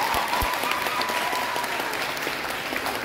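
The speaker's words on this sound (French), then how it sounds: "Un tonnerre d'applaudissements pour Madame" A crowd at a graduation ceremony claps steadily in sustained applause, dense and even throughout, with a faint voice in the background.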